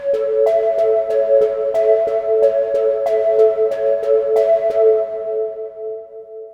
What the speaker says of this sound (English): It gives it that magic, lush, Juno type chorus and stereo spreads as well.